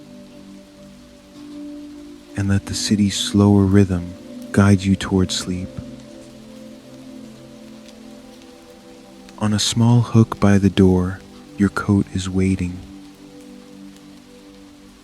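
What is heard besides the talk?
rain falling in New York City at night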